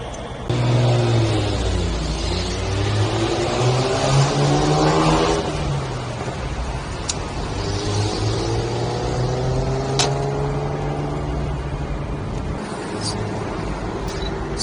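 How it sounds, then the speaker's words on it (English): Old four-door Nissan Skyline 2000 GT driving ahead on a Japanese road, its engine note rising and falling through gears in long drawn sweeps, heard from a following car with steady road roar underneath. "It looks like it's an old Skyline 2000 GT."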